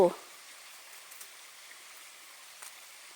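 A small stream flows beside a forest spot in Sweden where wild mushrooms are being picked, giving a faint, steady rushing hiss that runs evenly throughout with no other clear sounds.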